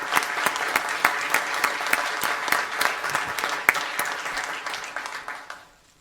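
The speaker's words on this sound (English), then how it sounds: "Let's give her a round of applause." A round of applause from the audience at a school district governing board meeting, loud crisp claps with a few sharp standouts, holding steady before tapering off at the end.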